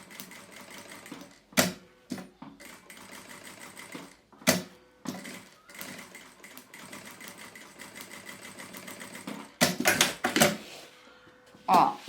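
Sewing machine stitching a quilted fabric piece, bursts of rapid mechanical whirring separated by short clunks and pauses, fairly close, with a voice talking at times over it.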